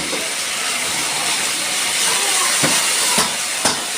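Ginger garlic paste fries in a pan with cinnamon, cumin and fried chopped onion for an egg and pointed gourd curry, giving a loud, steady sizzle with a few sharp crackles near the end.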